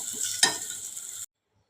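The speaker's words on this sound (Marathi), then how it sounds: "बटाटा सुद्धा आपला छान परतत आलेला आहे. असा थोडा खरपूस होईपर्यंत त्याला भाजून घ्यायचा आहे" Potatoes sauté in a pan with a soft, faint sizzle and a single stirring scrape, ending abruptly in silence.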